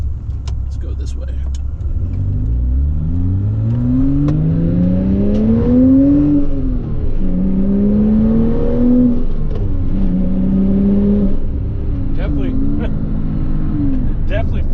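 A Porsche Cayman S 987.1 fitted with a Milltek Sport exhaust accelerates hard with PASM off. The engine note climbs steadily through several gear changes, loud and close, with a brief dip at each shift.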